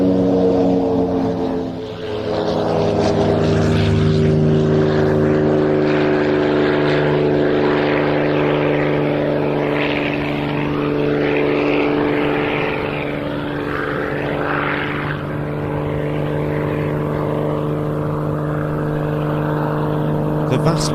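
A Soko J-20 military jet in Yugoslav Air Force colours departing at the Royal International Air Tattoo 2025, its steady, loud engine drone sustained throughout as it taxis and leaves, with someone talking over it.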